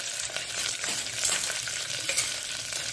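Crushed garlic, urad dal and curry leaves frying in hot oil, a close, steady crackling sizzle with faint stirring scrapes, no voices.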